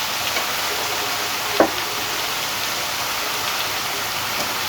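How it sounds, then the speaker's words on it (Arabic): Minced garlic sizzling in butter with taro in a pan: a steady, even frying hiss throughout, with one brief louder crackle or stir near the middle. "ننزل بقى بثوم مفروم"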